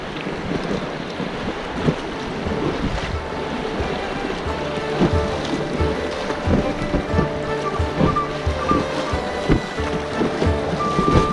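Rushing water from river rapids on the River Spey, heard from a kayak as a continuous broadband wash with wind buffeting the microphone and occasional knocks and splashes close by.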